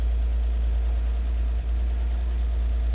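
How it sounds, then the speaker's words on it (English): A car engine idles steadily with a low, constant rumble and slight vibration throughout, the rear wheels spinning freely; the sound is continuous and close, with no talk. "our rear wheels are spinning right now"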